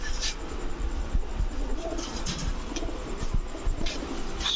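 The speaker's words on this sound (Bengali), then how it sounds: "এরপরে দেখাবো টাইগার বুদাপেস্ট একটা মাদি কবুতর, টাইগার বুদাপেস্ট মাদি।" A female Tiger Budapest pigeon coos softly amid steady background noise, with low, repeated cooing pulses and occasional brief higher chirps, no talking.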